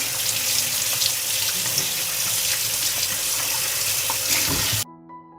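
Fresh peppers are rinsed under a running kitchen tap, with a steady close splash of water spattering in the sink that cuts off abruptly near the end.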